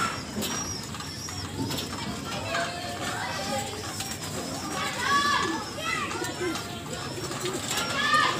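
Racing pigeons coo and flutter while feeding, with soft repeated coos and bird calls close by, mixed with children playing in the background and a person talking over them.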